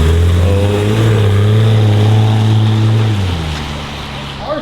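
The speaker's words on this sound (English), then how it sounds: "Car sounds like that." BMW 335i engine revving: a loud, close, deep drone holding steady, then dropping in pitch and fading as the revs fall away near the end.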